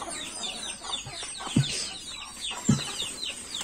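A flock of chickens and small chicks cluck and cheep nearby while being fed cornmeal, a busy layer of soft clucks with a couple of louder squawks standing out.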